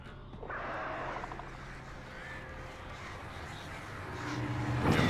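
Crows caw in the video game Alan Wake: a few harsh, scattered calls ring out at moderate distance over a low ambient bed of game sound, growing a little louder toward the end, with no speech.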